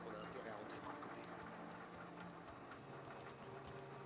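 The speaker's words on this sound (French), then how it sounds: "La petite ambiance avec la pluie et tout" Rain in the video game Mafia Definitive Edition near an abandoned station, heard as a faint, continuous patter and hiss of falling rain with scattered drop taps.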